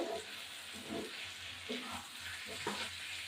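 Chicken liver stir-fried (kosha) in a pan gives a steady low sizzle with soft intermittent scraping of stirring, fairly faint and close, with no talk.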